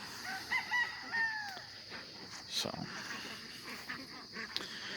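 A three-year-old rooster crows faintly at a distance over a busy outdoor background of chirping birds and murmur.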